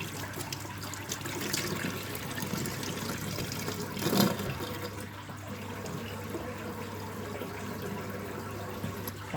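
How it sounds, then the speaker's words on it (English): Washing up dishes in a sink: soft, continuous running and splashing water with faint clinks, low and close throughout, with one slightly louder splash in the middle. "listen to the splashing and crashing and the inevitable swearing when I break the glass"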